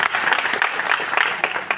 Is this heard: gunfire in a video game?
no